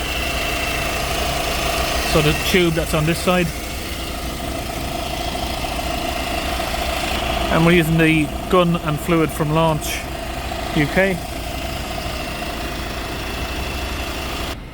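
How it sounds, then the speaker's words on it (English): A Citroen or Peugeot car engine idles steadily in the background, a low constant rumble, while someone speaks in short bursts nearby. "We've got the engine running on this."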